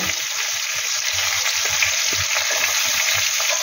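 Radishes and other vegetables fry in bhetki fish oil with a loud, continuous sizzle, joined by irregular soft stirring knocks from the pan.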